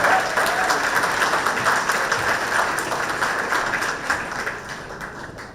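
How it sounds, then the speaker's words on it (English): An audience at a school district pitch event claps steadily, a dense sustained round of applause that fades slightly toward the end with no voices over it. "Give them one more round of applause there."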